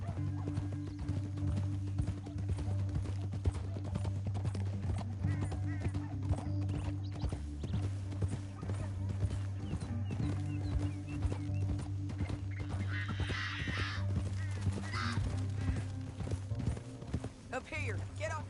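Horse hooves clip-clop in a fast, continuous rhythm in Red Dead Redemption 2, with a whinny breaking through near the end.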